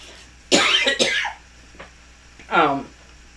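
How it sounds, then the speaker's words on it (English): A person coughs a few times in quick bursts, then gives a short throat-clearing cough after a pause, close and fairly loud. "I feel like I'm going to have a coughing attack."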